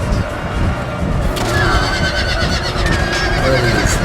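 A horse neighs amid a Total War Empire battle, whinnies rising over a dense, constant roar of gunfire and combat noise throughout.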